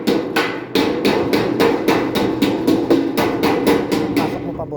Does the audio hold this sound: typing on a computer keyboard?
no